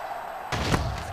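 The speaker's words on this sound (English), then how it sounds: "He hits a booming kick." A booming kickoff kick in NCAA Football 2011, Ohio State versus Oregon, lands as a single heavy thud halfway through, followed by a swelling rush of stadium crowd noise.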